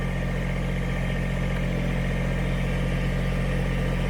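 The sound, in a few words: BX engine running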